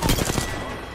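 A quick burst of video game gunfire from Apex Legends rattles off in the first half second, then trails into a dull echoing tail.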